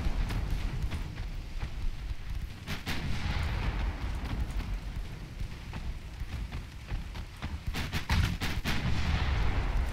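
Heavy naval gunfire from 9-inch guns in a warship battle game, a dense barrage of booming shots and impacts rolling continuously over ten seconds, with louder bursts clustered toward the end.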